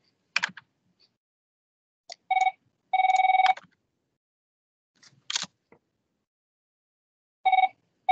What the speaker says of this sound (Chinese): 我谂我咁啱有电话